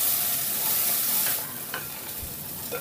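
Flattened rice (poha) stir-fried in a pan over low heat, a steady hiss of sizzling with scraping stirring strokes near the end, close and continuous without talk.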